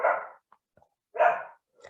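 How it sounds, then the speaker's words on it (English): A dog barks fiercely indoors at a house, giving two loud close bark bursts separated by a quiet gap with small faint sounds in between. "Apologies for her fierce bark."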